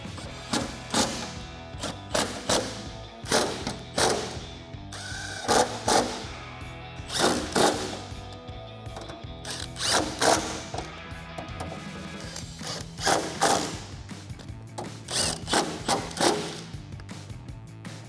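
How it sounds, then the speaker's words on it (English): Ratchet with a 13mm socket tightening bolts on a RedRock HD tire carrier on a Jeep Wrangler JK tailgate, repeated bursts of rapid clicking with short pauses between strokes, close and clear, no talking. "grab your 13mm socket and tighten it down"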